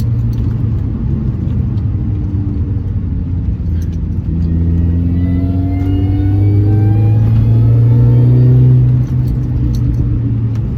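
A car engine revs up steadily while accelerating in third gear, its pitch rising in a long continuous pull with road rumble beneath, loud and close.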